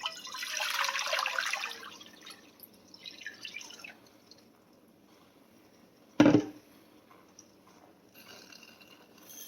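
Water poured into a pot for split pea soup: a steady splashing pour for about two seconds that trails off, followed later by a single sharp clunk against the pot.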